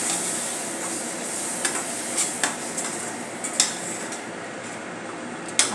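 Tomato puree being stirred into a hot, sizzling pan for a red chickpea gravy, a steady broadband fry hiss with scattered spoon scrapes and clinks against the pan, close and alone without talk.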